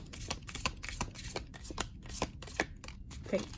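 Tarot cards are shuffled repeatedly in quick riffling bursts, soft crisp flutters and taps close by with no talking.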